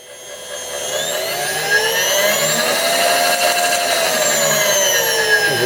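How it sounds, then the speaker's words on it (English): ENCO 9-by-49-inch knee mill power feed table running, a loud steady whining drive with a rising and falling motor tone, close up and continuous, with no talking. "we're just going to go to the power feed table here."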